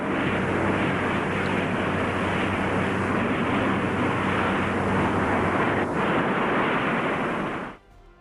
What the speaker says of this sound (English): Historic footage captures the modified B-45's ascent on May 20,